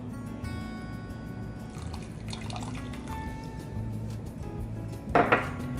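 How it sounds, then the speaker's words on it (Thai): Soy sauce pours into a pot of stuffed bitter melon soup as seasoning: a steady close trickle of liquid with faint drips, ending in a brief bright clink of a pot or utensil. "ใส่แล้วปรุงรส โซยซอส"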